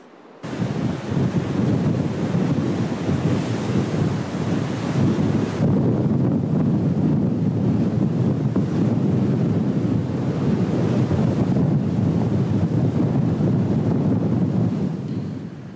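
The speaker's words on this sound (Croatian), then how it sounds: "Uz orkansko jugo te velike valove podigla se i razina mora" Storm waves pound the Orebić seafront on the Pelješac peninsula as hurricane-force jugo wind roars, a continuous loud rush of surf and wind buffeting the microphone with no voices.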